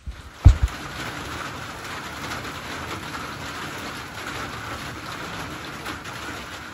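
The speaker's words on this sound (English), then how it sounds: "jumped in the shelter because it's raining" Steady rain falls outside a trail shelter on the Appalachian Trail, a continuous soft hiss of drops with a brief knock near the start and no talking.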